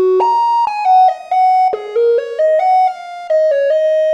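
Novation Bass Station II synth with its two oscillators gliding at different speeds, so one pitch lags behind the other: a loud, bright tone stepping through a run of held notes that slide into place, with no voices.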